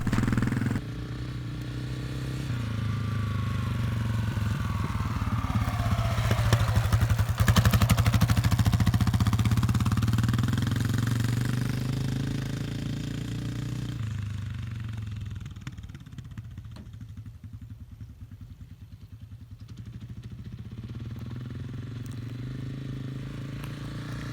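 A Honda CRF250F dirt bike engine runs continuously as it is ridden in second gear, a steady mid-pitched drone that swells, peaks and then eases off, with some clatter and no speech.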